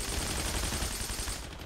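Dense, continuous gunfire in the World War II shooter Heroes & Generals, a loud, unbroken burst of rapid shots that fills the whole moment before easing slightly at the end.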